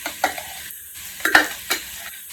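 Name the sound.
baby carrots sautéing in a pot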